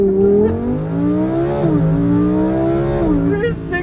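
A Lamborghini Huracan Sterrato launches hard in thrust mode with traction control off, its engine roaring loudly and close as it climbs through quick upshifts, each one briefly dipping the pitch before it rises again.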